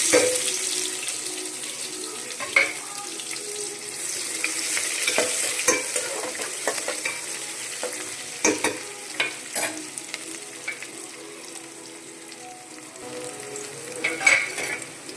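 Onions and curry masala fry and sizzle in a pan for chicken biryani, with close, loud, steady crackling and intermittent scraping stirs of a spoon.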